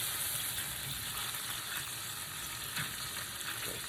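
Fried rice with peas cooks in melted butter, giving an even, close sizzle that runs steadily throughout with faint stirring.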